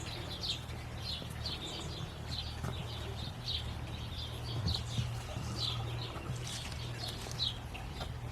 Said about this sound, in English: It's a lovely morning, lots of birds out.